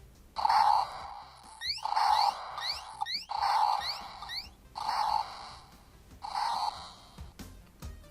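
Loud, bright electronic game jingles and chirpy beeps from a 400-in-1 handheld game console at maximum volume, in repeated short bursts, with rising blips between phrases.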